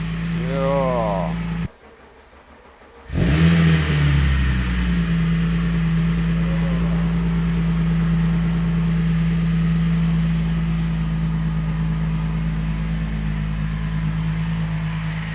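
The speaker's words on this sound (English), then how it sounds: "Engine is a bit noisy, but we obviously knew that. But that's it, it starts up." A swapped VR6 engine cranks and catches, then settles into a loud, steady, somewhat noisy idle close by, with a low drone running throughout.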